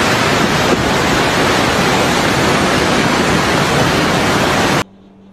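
The flooded Rosi river, swollen by heavy rain near the BP Highway, roars as a loud, constant rush of churning water that fills the scene and cuts off abruptly near the end.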